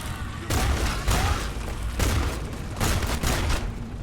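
Rapid bursts of gunfire from a player's close-range gun in the video game Starfield, several loud, clustered volleys with brief gaps between them.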